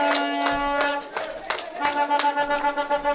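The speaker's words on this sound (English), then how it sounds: "Give him some more claps, man." Scattered hand clapping from a crowd at an outdoor political party public meeting in Grenada, irregular claps mixed with talking voices and a steady musical tone underneath.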